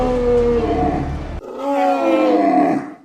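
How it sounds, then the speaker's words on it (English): A film sound effect for a cartoon crocodile's roar, blended from elephant and camel calls: two loud, close, drawn-out bellowing roars, the first low and growling, the second higher and trumpeting with a groaning tail. "There was one scene where Lyle was producing a roar that was a mixture of an elephant and a camel."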